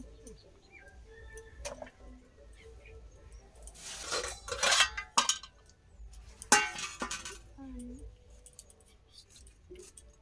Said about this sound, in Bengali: এই যে উচ্ছে কাটছি